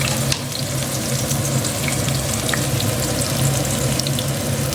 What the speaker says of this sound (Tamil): நெய் ஊற்றி கொஞ்சம் வெங்காயத்தை போட்டேன்